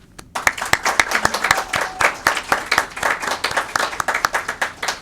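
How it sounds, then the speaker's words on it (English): A small crowd at a graduation ceremony claps for the graduating class, distinct close handclaps in a quick irregular rhythm that start abruptly and continue steadily. "You guys owe yourself a big round of applause."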